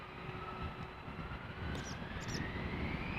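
An Embraer 175 jet departing Amsterdam Schiphol, a faint, distant steady engine rumble with a slowly rising tone, alone with no talk.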